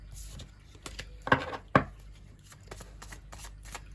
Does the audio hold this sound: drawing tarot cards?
yes